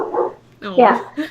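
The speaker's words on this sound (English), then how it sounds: "I'm sorry if you guys can hear my dog." Deep barks from a large dog, part Great Dane, two or three loud close woofs in quick succession, heard indoors alongside a person talking.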